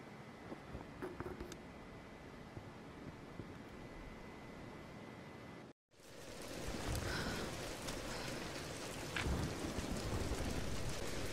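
Steady heavy rain and rumbling thunder fill a storm scene in the video game Tomb Raider: Definitive Edition, with a brief cut to silence before the downpour returns louder and denser.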